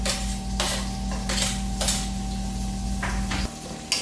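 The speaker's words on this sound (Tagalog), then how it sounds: "Haluin lang natin to hanggang sa maghiwalay yung ating sibuyas." A utensil scrapes and clanks against a pan while onions are stirred during home cooking, with repeated metallic scraping strokes over a steady low hum, close and fairly loud.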